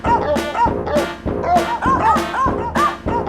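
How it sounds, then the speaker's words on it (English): Mii characters in a video game play a bouncy tune built from dog barks, with short pitched yips and woofs repeating in a steady rhythm and nothing else heard. "they can make sweet, sexy music using dog barks"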